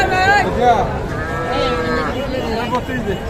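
Small calves moo at a busy cattle market, several overlapping drawn-out calls close by over a constant crowd murmur and voices.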